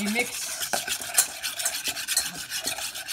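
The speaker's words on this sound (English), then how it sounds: "you basically just mix the egg yolks in with the mayonnaise, the mustard, the vinegar, the salt and pepper" Egg yolks are mixed with mayonnaise, mustard, vinegar, salt and pepper in a bowl, heard as brisk, rhythmic scraping and rubbing strokes close up, with no talking.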